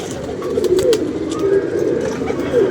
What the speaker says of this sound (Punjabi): ਚਲੋ ਹੁਣ ਪਤਾ ਲੱਗ ਗਿਆ ਕਿਹੜਾ ਕਬੂਤਰ